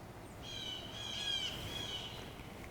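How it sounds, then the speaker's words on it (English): Birds chirp outdoors in a steady stream of high, thin calls lasting a couple of seconds over faint background hiss, fairly quiet and somewhat distant. "These birds are talking."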